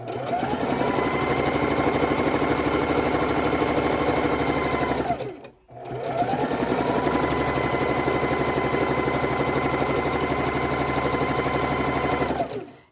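A sewing machine runs fast and steady while chain stitching quilt fabric, giving a loud, close mechanical whir that stops briefly and then starts up again.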